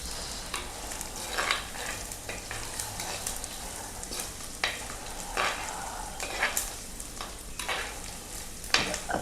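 Ginger and garlic sizzling with browned onions and green chillies in a pan, a steady crackling fry broken by repeated scraping stirs of a spoon, close and fairly loud with no talking.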